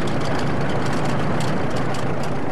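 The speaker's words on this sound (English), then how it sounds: "The so-called racers throttle down their machines to the slowest possible speed." Tractor engines throttled down to a crawl at a slow tractor race in Gothenburg, a loud, steady low rumble of heavy idling engines close by, continuous with no talk.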